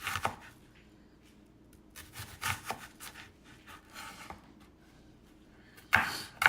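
Knife chopping onions on a cutting board in a home kitchen: a few scattered cuts and taps, moderately quiet and close, with a louder burst of chopping near the end and no talking.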